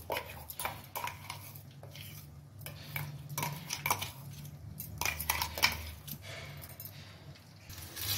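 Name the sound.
pouring paste onto a plate with utensils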